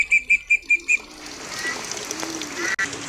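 Pigeons flutter in and settle on a house roof after a row of rapid high chirps. Wingbeats and scuffling follow, close and lively, with soft background murmur.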